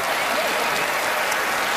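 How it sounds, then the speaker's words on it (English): Studio audience applauding for a magician's act on a televised magic competition stage, a steady, dense wash of clapping that stays loud and even from start to finish with no talk over it. "Let's give them a big round of applause."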